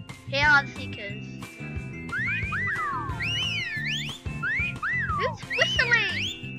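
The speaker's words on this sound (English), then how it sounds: "Who's whistling?" Whistling in the Roblox hide-and-seek game: a series of sliding, tuneful whistle notes rise and fall over looping game music, fairly loud and close, while players talk underneath.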